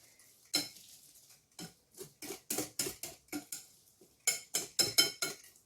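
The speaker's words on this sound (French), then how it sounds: "ici, je mélange bien, que tout se mélange bien ensemble avec la maïzena et les œufs" A utensil stirring a batter of courgette, cornstarch and eggs in a bowl gives irregular clinks and scrapes, close and crisp, in uneven clusters with short pauses between them.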